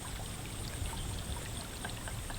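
Water from a stream flows steadily in a continuous trickling, babbling wash with small splashes, moderately quiet and even throughout, with no voices.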